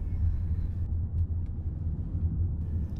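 A car circles a small roundabout, heard as a continuous low engine and road rumble with a steady drone throughout and no talking.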